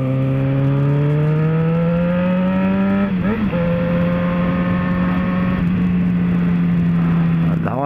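A motorcycle revs hard and holds a steady, loud, close engine drone with one brief dip partway through. It is ridden along a busy town street in the Bairro das Pedrinhas neighborhood of Guaratinguetá.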